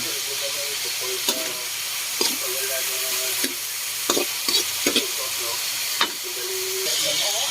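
Chicken sizzling and frying in a pan for bihon, a steady hiss of oil broken by several sharp scrapes and clacks of stirring, close up, with a faint voice briefly in the background.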